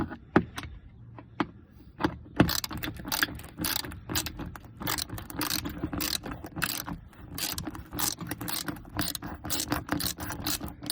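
Bolts being loosened with a ratchet on the front panel of a 1998-2002 Mercedes-Benz E320 W210, heard as a close series of quick ratcheting clicks and metallic tool taps in irregular bursts.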